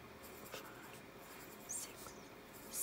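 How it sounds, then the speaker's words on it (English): A pen tapping out a series of dots on paper for a simple counting exercise, producing faint, soft taps and short scratches that come and go quietly against a low background hiss. "So we need to draw 7 dots here."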